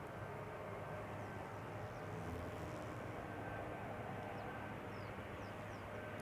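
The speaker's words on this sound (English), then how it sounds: "this is the Embraer 190 returning from Billland" A KLM Embraer 190 airliner lands on Schiphol's Polderbaan runway on a warm day, its jet noise a faint, steady distant roar that holds evenly without any clear peak.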